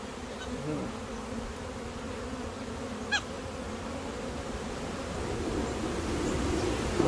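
Honeybees buzz continuously around an open hive during an inspection, a dense steady drone close by that swells slightly toward the end, with no talking heard.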